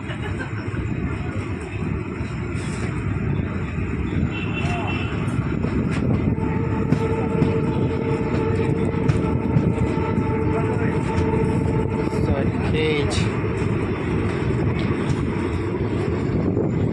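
Sabarmati Bhavnagar Intercity Express train running steadily after departing Sarkhej, a continuous loud rumble of wheels on rails with faint squeals and clatter throughout.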